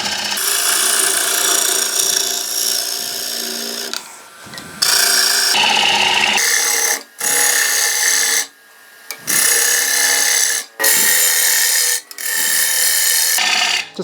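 A gouge scoops into a wooden bowl spinning on a wood lathe, giving loud, close bursts of rough scraping and shaving that stop and restart in short passes, with no voices.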